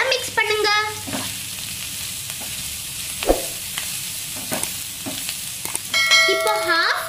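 Pasta tossed in a pan with chilli flakes and pepper, a steady sizzling fry under occasional scraping stirs, with faint beeping tones at the start and the end.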